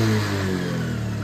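A Honda Beat scooter engine, just cured of a misfire, comes off a rev and settles toward a steady lower drone, close and fairly loud for about a second.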